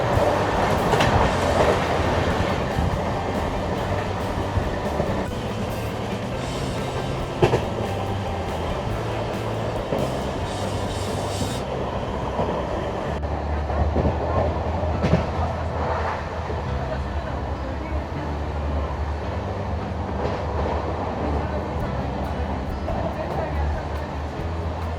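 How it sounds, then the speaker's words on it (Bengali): Kaviguru Express passenger train with new LHB coaches running on rails after leaving Bandel Junction, a steady loud rumble with rhythmic clickety-clack wheel beats throughout, heard from inside, with a voice talking over it. "এই হচ্ছে কবিগুরু এক্সপ্রেস।"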